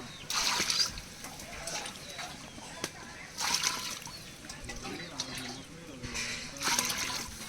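Water being measured out and poured in batches for a large chicken pulao cooked in a forest area, three splashing pours separated by short gaps, nearby and moderately loud, with people talking between them.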